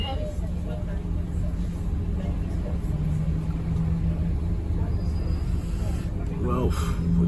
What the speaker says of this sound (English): we're kind of being held up by traffic at the moment